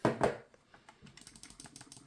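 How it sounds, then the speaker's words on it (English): The very clicky buttons of a Razer Wolverine V2 Pro controller are pressed. Two louder clicks open the run, then a quicker string of light, close clicks follows. "The buttons are very clicky."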